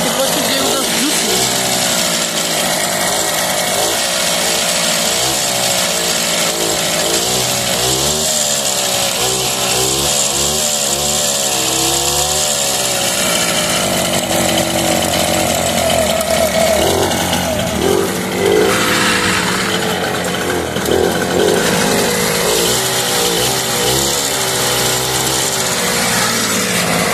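Loud, rough, buzzing two-stroke drone of a Babetta moped engine running close by, humming continuously with shifting pitch, and people talking over it.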